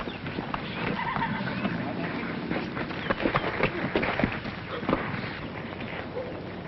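A thoroughbred horse in a 1939 horse-racing setting, with hoof clip-clops and a brief whinny moving under steady background noise and nearby voices.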